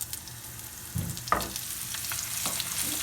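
Onions drop into hot oil with cumin for a pulao tempering, bursting into a sudden sizzle after a quiet start, with a clink of a utensil and a steady crackle continuing close by.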